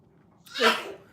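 A single close sneeze bursts out of quiet background, sharp and breathy, lasting about half a second.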